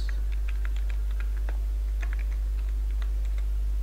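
Keystrokes on a computer keyboard while a web page is edited, a quiet, irregular run of light clicks spread over a few seconds with no talk, over a steady low hum.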